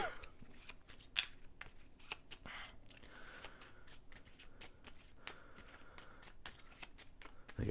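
A deck of Red Rising board game cards shuffled by hand in a solo playthrough: crisp rapid riffles and card snaps in quick bursts, close and quiet, with a few louder flicks.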